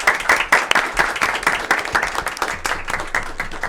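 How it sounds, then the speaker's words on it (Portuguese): A seated class of students at a school research event in Ribeirão Preto breaks into dense, sustained applause, loud and steady throughout with no speech over it. "Uma salva de palmas, então."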